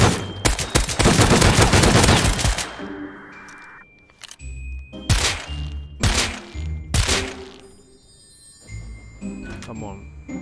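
An MP5 fires in a video game, first a long dense stream of shots, then several short separate bursts with metallic pings and thuds between them, while a player talks.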